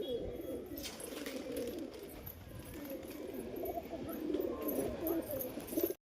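A pigeon coos softly in a loose, continuous low warble, close by, over faint outdoor background noise.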